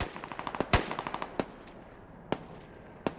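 Distant bursts of automatic and single gunfire in the military shooter game Squad, scattered cracks and short rattling volleys over a quiet background, with no speech.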